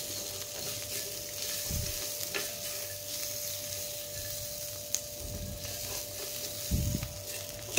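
Masala with sesame seeds and a few cashews roasting in a pan, a quiet steady sizzle broken by occasional scraping stirs of a spoon, close and without talk.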